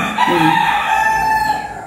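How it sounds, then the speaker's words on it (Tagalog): A rooster crows loudly nearby, a single drawn-out cock-a-doodle-doo rising and holding before fading, with faint background noise. "Nagigising na naman po mga manok maingay."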